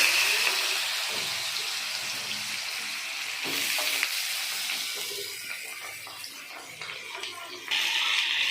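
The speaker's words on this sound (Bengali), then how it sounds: "তেল গরম করে তার মধ্যে আলুগুলো দিয়ে দিতে হবে" Thick-cut potatoes go into hot oil in a pan and fry with a steady, bright sizzle throughout, a few clinks and stirring noises breaking in, and no voices.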